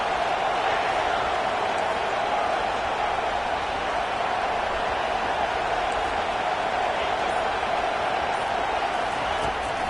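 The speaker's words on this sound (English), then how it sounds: "This crowd trying to show them what it's going to be like all day in this house" Stadium crowd at an SEC college football game, a steady loud roar of cheering filling the whole stretch without breaks, a dense wash of many voices at a distance.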